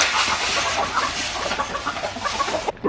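Chickens cluck in a busy overlapping chorus at a farm near Positano, fairly close and steady for about three seconds, with no talk over them.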